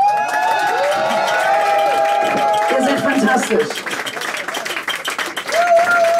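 A concert crowd in a bar cheers, shouts and applauds for a live band at its 25th show at the Junction Bar, a dense steady roar of clapping and voices with someone speaking over it.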